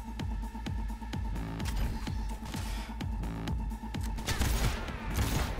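Rapid gunfire and explosive booms from the video game Cyberpunk 2077 on Xbox One S, a series of sharp repeated shots over a constant game music and ambience bed, moderately quiet.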